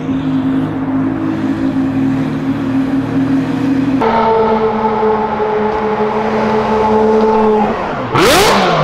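A McLaren and a Lamborghini accelerate hard on a São Paulo street, loud sustained engine roars with rising pitch and a gear change midway, ending in a sharp whooshing pass close by.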